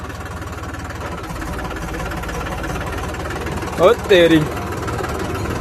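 A Massey Ferguson 8055 tractor idles at night with a steady low diesel throb, while a brief burst of higher tones rises over it near the end and a person speaks throughout.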